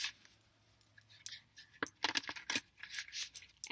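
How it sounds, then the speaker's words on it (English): A deck of cards being ruffle shuffled, with crisp riffling bursts and light clicks close by, irregular and fairly quiet, with no talking. "Let's do some ruffle shuffle"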